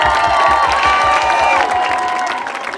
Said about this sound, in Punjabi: ਤਾੜੀਆਂ ਲਾਓ ਬਾਈ ਯਾਰ